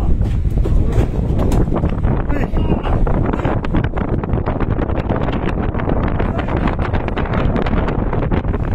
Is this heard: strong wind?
yes